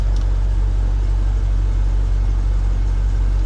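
LS-swapped Mazda B2200 pickup engine idling close by, a deep steady low rumble as the A/C engages and the idle shifts, with no voices.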